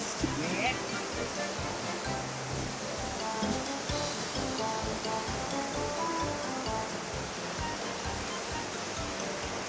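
Water crashes down a waterfall near a climbing cliff in a steady, dense roar that stays loud throughout, with faint voices under it.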